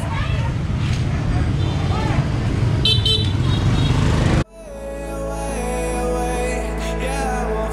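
Busy New Year's Eve street traffic in Hoi An, Vietnam, with many motorbikes; a dense, loud roar of engines and horn toots, then an abrupt cut to a steadier, smoother engine drone.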